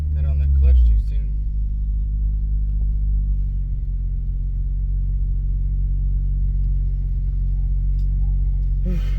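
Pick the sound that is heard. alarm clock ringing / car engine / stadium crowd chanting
car engine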